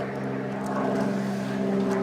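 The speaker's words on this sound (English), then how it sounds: "look, rescue airplane." A rescue airplane drones overhead at a distance, a steady propeller engine hum with a sustained tonal whine that holds evenly throughout.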